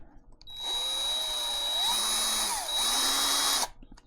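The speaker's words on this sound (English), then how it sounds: "we're going to take our drill" A handheld power drill on fast speed bores out center holes for installing a battery tender plug on a Honda Shadow 750, a loud sustained whine that dips in pitch as it bites, then spins down.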